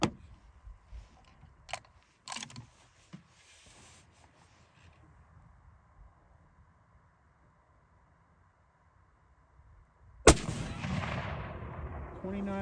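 A Seekins Element 300 Win Mag rifle fires one loud, sharp shot near the end of a mostly quiet stretch of faint rustling outdoors, followed by a long fading echo.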